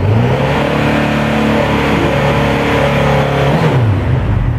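Close and loud, a 2017 Honda CB1100EX with the original stock exhaust revs hard, engine pitch climbing and holding high before dropping quickly back toward idle, with no talking.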